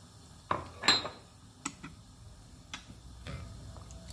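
Chicken is mixed with milk, soy sauce, lemon juice and spices in a bowl, giving a few sparse, quiet clinks and scrapes of utensil against the bowl.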